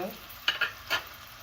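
Vegetables frying in a pan for a spinach dish, a quiet sizzle under a few sharp scraping strokes as a spoon stirs them, close and faint.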